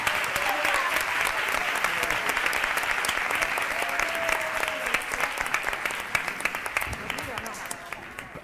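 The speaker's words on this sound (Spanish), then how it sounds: "yo pido un aplauso para ellos" Sustained applause from an audience at a round-table panel event, dense steady clapping filling the room for several seconds and thinning slightly toward the end.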